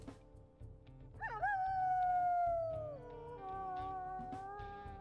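A wolf in the WolfQuest video game lets out a long, dramatic howl that rises sharply, holds, then dips and continues at a lower tone, sounding over a soft rhythmic game backdrop.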